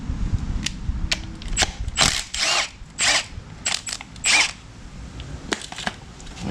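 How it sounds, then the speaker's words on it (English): A ratchet with a 12mm socket works a shifter bolt loose on a Honda K-series car, giving bursts of quick metallic clicks in short uneven runs, close and fairly loud, with brief pauses between strokes. "we just need a 12mm, and so we have to take this bolt out right here"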